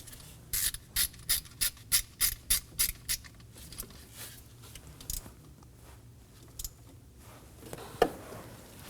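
Ratchet wrench snugging a bolt while a starter is replaced on a 2016-2020 Kia Sorento 2.4L, a quick run of about ten sharp clicks, then a few scattered clicks and a clank, close up with no talking.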